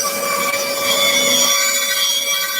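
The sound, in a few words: saw cutting wood for an Adirondack chair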